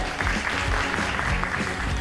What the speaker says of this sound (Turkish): bir moral alkışı olsun onlara